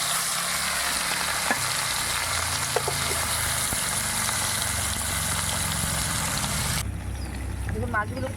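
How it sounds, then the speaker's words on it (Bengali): Salted, turmeric-coated fish pieces fry in hot mustard oil with a loud, continuous sizzle and crackle, close up, with occasional utensil taps before the sizzle suddenly drops near the end. "সেই মাছগুলো একটা একটা করে ভেজে নেব।"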